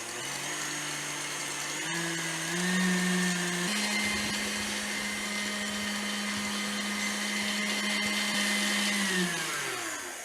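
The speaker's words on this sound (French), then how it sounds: "je vais battre mes œufs, mes blancs d'œufs, jusqu'à ce que le sucre dissoute" An electric mixer whipping egg whites with sugar for a pavlova meringue, a steady motor whine that shifts pitch a couple of times and then winds down near the end, heard alone and fairly close.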